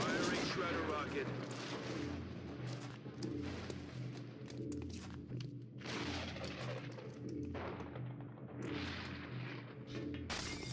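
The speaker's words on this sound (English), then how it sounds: "Firing shredder rocket." Shredder rocket launches in a video game, loud booming blasts and rushing bursts one after another over a rumbling battle background, with a voice speaking now and then.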